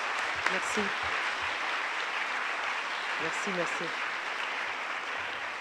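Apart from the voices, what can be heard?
audience applause after a lecture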